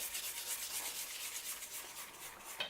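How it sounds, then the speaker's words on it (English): A spatula scraping down the sides of a cake batter mixing bowl for an apple skillet cake, soft repeated rubbing strokes close by, quiet and without speech. "at this point, I want to scrape my bowl"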